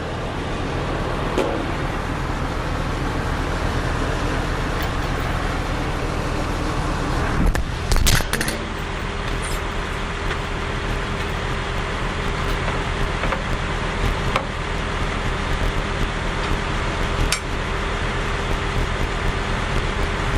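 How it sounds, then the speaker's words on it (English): A 360 WA machine's engine runs steadily after starting, a continuous loud broadband rumble with a faint steady whine above it, broken by a brief louder clatter partway through. "we're going to start the machine, and we're going to retract the kickstand"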